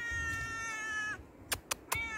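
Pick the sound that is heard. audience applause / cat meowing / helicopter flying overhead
cat meowing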